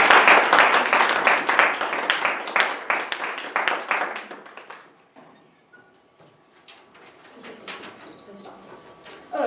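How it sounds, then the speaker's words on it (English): An audience at a Toastmasters-style club meeting claps together, starting loud and dense, then thinning out and fading to scattered claps and quiet room noise. "Let's give a round of applause."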